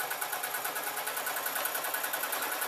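A sewing machine runs a stretch stitch on stretch fabric for a maxi dress, a soft, quick, evenly pulsing needle clatter that continues steadily through the short stretch, with no voices.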